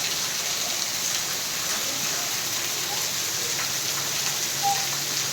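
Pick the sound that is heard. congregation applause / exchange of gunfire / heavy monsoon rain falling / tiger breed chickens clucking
heavy monsoon rain falling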